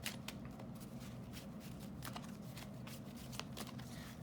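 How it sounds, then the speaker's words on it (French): Tarot cards shuffled and laid down on a table, a steady run of soft papery slides and light taps, close and quiet, with no voices. "Je vais recouvrir cette carte."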